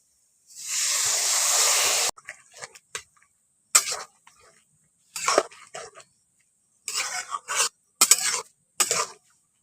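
Long beans and egg stirred in a pan after water is added: a steady sizzling hiss at first, then a series of short, uneven scrapes and clinks of a utensil against the pan, close and clear with no talk.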